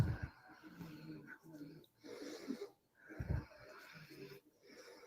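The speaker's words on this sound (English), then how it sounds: "Her breathing sounds terrible." Laboured, wheezing breathing from a woman, rasping in uneven bursts across several seconds, fairly close, with snorting breaths and gaps between them.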